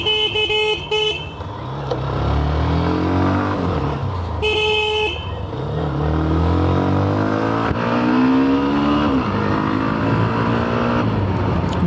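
A new 2026 Hero Xtreme 125 motorcycle rides through city traffic, its engine droning and rising in pitch as it accelerates, with loud car horns honking nearby at the start and midway.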